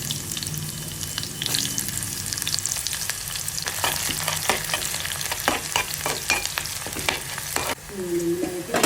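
Coriander seeds, mustard seeds, cumin, fenugreek and onion sizzle in hot oil as a tempering, a dense crackling fry with scattered sharp pops and stirring scrapes, close and loud, ending in a brief clatter.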